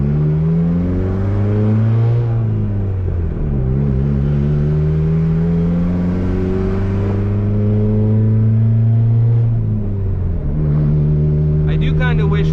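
A turbocharged, built Honda Civic D16 engine pulls hard through the gears on a drive, loud steady engine tone climbing and dropping at each shift, with a brief spool-like whir near the end.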